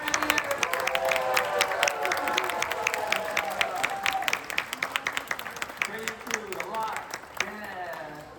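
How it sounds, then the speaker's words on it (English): Audience clapping and cheering for a young artist at a Disney Animal Kingdom animation class, a steady burst of applause from a crowd indoors, with voices chattering underneath throughout. "I want everybody to get a round of applause for my friend here."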